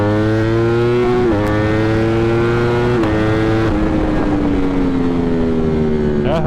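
A motorcycle engine revs loudly and close, its pitch stepping up through several gear-like rises before settling, with sharp exhaust pops cracking out near the end.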